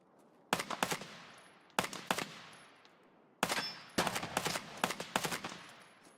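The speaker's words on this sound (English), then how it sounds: "That's a firefight at Fortress." A distant firefight at Fortress in the video game Escape from Tarkov sounds as repeated bursts of automatic gunfire, each rattling volley trailing off in echo, with the last bursts coming faster and denser.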